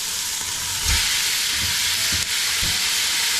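Raw beef slices hitting a hot pan of sautéed garlic and onion, a steady broadband sizzle with a few soft thuds as pieces drop in, close and continuous with no talking.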